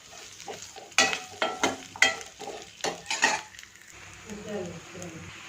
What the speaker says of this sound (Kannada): ನೋಡಿ ಈರುಳ್ಳಿ ಬೆಳ್ಳುಳ್ಳಿ ಅದೆಲ್ಲ ಸ್ವಲ್ಪ ಚೆನ್ನಾಗಿ ಫ್ರೈ ಆಗಿದೆ